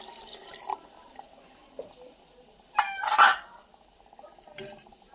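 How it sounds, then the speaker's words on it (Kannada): Water poured into chapati dough in a home kitchen: a short splashy pour near the middle, with faint clinks and soft handling noises before and after. "ಇವಾಗ ಒಂದು ಸ್ವಲ್ಪ ನೀರು ಇಟ್ಕೊಂಡು ಹಾಕೋಬೇಕ್ರಿ ಇದಕ್ಕೆ."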